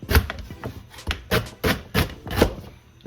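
Knife chopping fresh ginger with the skin left on for a boiled sorrel drink, a series of about eight sharp, fairly close board knocks at an uneven rhythm with no talking.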